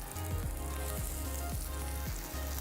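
Steady, crackling sizzle of watercress and spinach vegetarian burgers frying in hot oil in a pan, continuous and close, with a low hum running underneath.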